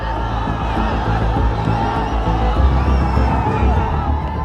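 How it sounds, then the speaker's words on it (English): A massed crowd of demonstrators in a video game shouts and roars in a dense, continuous din that stays loud and steady throughout, with a few voices rising out of the mass. "And the crowd surges towards Parliament."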